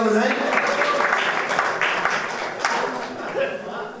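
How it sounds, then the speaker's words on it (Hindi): An audience at a Hindi poetry gathering in New York applauds, a full wash of clapping that fades gradually, with a few voices audible beneath it. "एक बार इन वृद्ध नौजवानों के लिए तालियां बजाएं"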